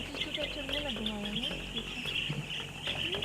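Small colourful yellow, blue and green birds with short black bills, nesting in clay beside a road in the Philippines, give quick bright chirps and twittering calls close by over a steady high hiss of background ambience.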